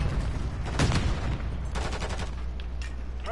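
Video game gunfire in Call of Duty, with a few sharp shots in quick bursts over a steady background rumble, loud and close, with no talking.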